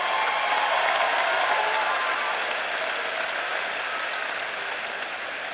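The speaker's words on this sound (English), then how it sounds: "let's give them a round of applause" Sustained applause from a large audience at a high school commencement ceremony for the class of 2025, dense and steady throughout, gradually thinning slightly toward the end.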